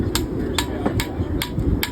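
A hammer strikes a horseshoe as a farrier sets it on a mark at the centre while shoeing a horse. Five sharp metallic taps land in a steady rhythm about every half second, close and clear, over a constant low rumble.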